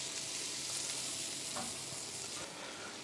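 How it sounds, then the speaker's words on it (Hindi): Spice paste frying in butter for Mumbai-style pav bhaji gives a continuous close sizzle with faint stirring scrapes, steady and unbroken throughout with no talking. "अब डाल रहे हैं थोड़ा सा बटर और डालेंगे पेस्ट जो हमने बना के रखा था, जिसको बचा के रखा था, और इसे भूनेंगे"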